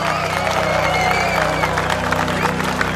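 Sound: crowd applause for a singer in a cartoon

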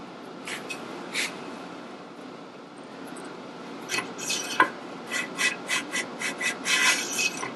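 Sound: lapping tool rubbing inside a Sportster pinion brace

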